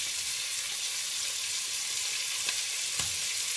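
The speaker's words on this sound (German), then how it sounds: "Das muss ich ganz schön anbraten. Ich habe das Feuer ganz nach oben gestellt." Chicken sears in a pan over the highest flame, giving a steady, close frying sizzle throughout with a couple of brief crackles and pops and no talking.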